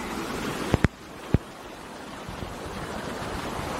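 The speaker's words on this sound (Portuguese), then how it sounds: "Esse é o córrego Cambuí." The Cambuí creek flows over rocks along a stony trail near the Putim waterfall in São José dos Campos, making a steady, broad rushing wash. A few sharp knocks come early, and no one speaks.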